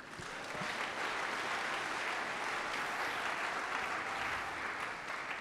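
A church congregation breaks into sustained applause during a sermon, a dense even wash of clapping that holds steady throughout at moderate distance, with no clear speech on top.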